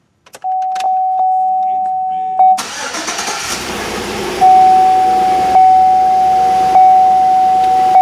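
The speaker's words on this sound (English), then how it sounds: "So let's go ahead and start the truck." A 2004 Chevrolet Tahoe's engine is started by remote start: a steady chime tone and a few clicks come first, then the starter cranks and the engine catches and settles into a loud, steady idle while the chime tone continues.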